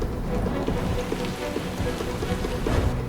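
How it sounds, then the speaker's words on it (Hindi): Steady rain patters densely on a surface, a constant hissing downpour with scattered droplet taps and no voices. "फिर वरुणास्त्र से बारिश शुरू कर दी।"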